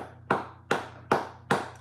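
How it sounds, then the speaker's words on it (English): Four sharp, evenly spaced claps or taps ring out with short decays over a low steady hum, closer to isolated hand strikes than a full audience applauding for a watch-market show guest. "So we have to give a little applause to Taylor, Robert Taylor."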